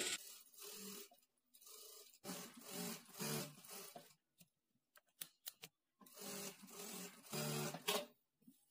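A sewing machine runs in bursts while top-stitching along the lining edge of a work blouse, with short whirring runs separated by pauses and a few soft clicks and handling sounds.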